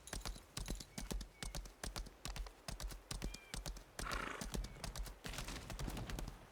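Steady clip-clop of a horse's hooves trotting along a dirt path in an online role-playing game, rhythmic and close, with a brief whinny and a swell of ambient noise partway through.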